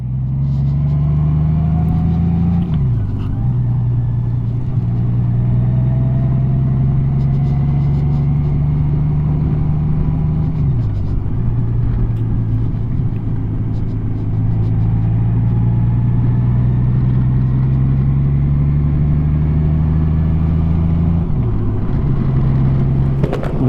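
A Honda Gold Wing GL1800 touring motorcycle engine chugs steadily at about 500 rpm uphill in third gear, a deep throbbing drone that dips and recovers a few times as the gears change.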